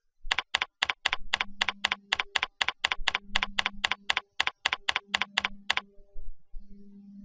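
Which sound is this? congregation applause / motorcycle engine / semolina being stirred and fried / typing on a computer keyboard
typing on a computer keyboard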